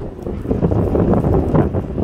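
Strong wind buffets the microphone outdoors on a walk with a dog, a steady loud rushing roar with gusty swells throughout and no talking.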